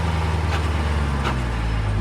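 A 2018 Jeep Trackhawk engine runs close by at a steady, rumbling idle-to-rev drone with strong low-end harmonics, holding even throughout with no voices.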